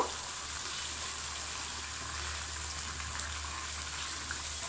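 Raw mustard oil sizzling in a pan with egg and poppy seed while being stirred lightly, a steady, even hiss and crackle with a low hum underneath throughout.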